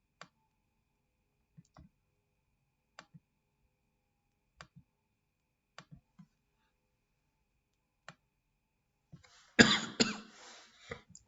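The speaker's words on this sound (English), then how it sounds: "I know the coughing might be irritating in terms of the lesson" Near the end, a single harsh cough bursts out close to the microphone of someone sick during a finance lesson, following a long quiet stretch dotted with faint, evenly spaced clicks.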